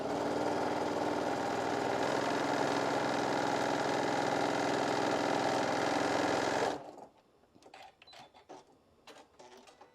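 A sewing machine stitches an apron in a loud, steady, rapid whir for several seconds, then stops abruptly, leaving quiet handling clicks and soft fabric rustles.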